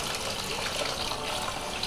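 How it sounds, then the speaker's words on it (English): Water pours steadily into a large mixing bowl for the first step of Indian fry bread, a continuous splashing gush that stays full and close for the whole stretch with no talk over it. "First, you have to add 8 cups of water to a large mixing bowl."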